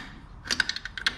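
Quick run of sharp ratcheting clicks from a hand wrench cracking loose the bolts on a Nissan Patrol intercooler, about eight close, fairly faint ticks in just over half a second.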